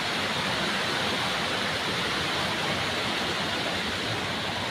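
Continuous rushing, bubbling clear water flows loudly and evenly in rainy weather, a dense hiss like a fast stream or small cascade with no voices.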